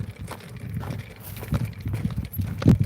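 Hooves on a desert hiking trail, irregular soft thuds and knocks at moderate distance with a few louder near steps toward the end.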